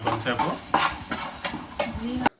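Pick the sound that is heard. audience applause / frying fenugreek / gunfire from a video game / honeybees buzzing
frying fenugreek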